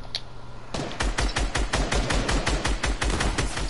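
Rapid automatic gunfire from a shooter video game, a loud steady string of about fifteen evenly spaced shots following a brief quieter lead-in.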